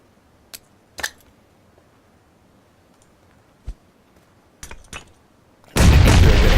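A grenade blast in the PUBG battle-royale game lands near the end as a loud, sustained broadband roar, after a few sharp clicks and thumps scattered through the otherwise quiet stretch before it.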